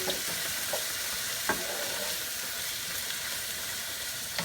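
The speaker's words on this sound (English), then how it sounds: "we're just going to stir all of this up." Chicken with coriander and ginger fries in a pan with a constant loud sizzle and a few sharp scrapes of a utensil being stirred through it, close up with no talking.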